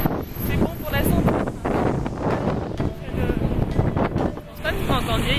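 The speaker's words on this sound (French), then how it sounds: "il y a tellement de vent ici" Heavy wind buffeting a microphone in San Francisco, rumbling and gusting loudly throughout, with a voice speaking underneath.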